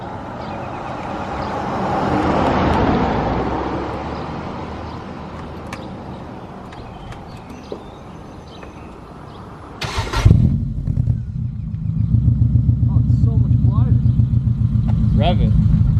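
A car with a Jones turbine resonator muffler on a DIY exhaust fix starts up partway through and settles into a steady, droning idle, preceded by a quieter stretch with voices and handling noise.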